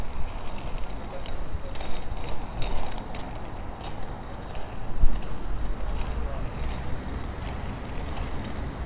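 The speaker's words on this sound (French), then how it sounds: "je maintiens une certaine vitesse en patinant, en faisant le ride et aussi en me laissant aller" Roller skates rolling at a steady speed on pavement give a continuous rough rumble with faint rhythmic pushes throughout, and one slightly louder bump midway.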